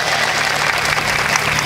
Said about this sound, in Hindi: एक बार जोरदार तालियां बजाकर इजाजत दे दे